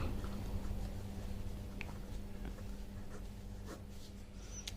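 Faint scratching strokes of writing on a board during a Hindi class 10 statistics math lesson, a few short marks over a low steady hum.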